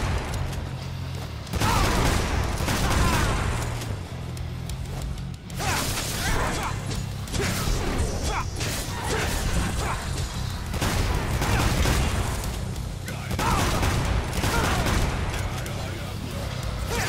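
Shotgun blasts and combat effects from Devil May Cry V gameplay come as loud, dense bursts and booms that repeat through the stretch, with crashes and whooshes packed tightly together and a voice talking over parts of it.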